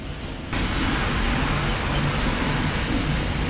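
Steady, loud road traffic on the Konkan to Mumbai route during heavy rain, a broad continuous roar of vehicles and wet road noise with no break after a brief quieter opening.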